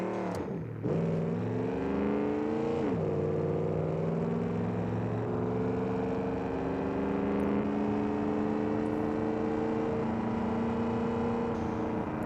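A drag car in BeamNG.Drive launches with a sharp engine flare, then pulls hard through rising gears, loud and steady, the engine note climbing with brief dips at shifts and no talking.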